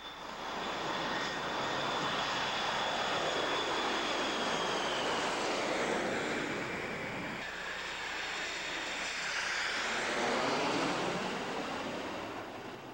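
Airliners on approach to a very busy airport roar loudly overhead, a continuous jet rumble and whine that swells and ebbs as aircraft pass, with no voices.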